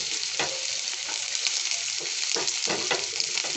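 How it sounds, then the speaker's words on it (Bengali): Chopped onions hitting hot oil and frying for spicy masala Maggi noodles, a loud continuous sizzle broken by repeated stirring clicks and scrapes from a spatula. "তেলটা গরম হয়ে গেছে। এখন আমি এর মধ্যে পেঁয়াজ কুচিগুলো দিয়ে দিচ্ছি।"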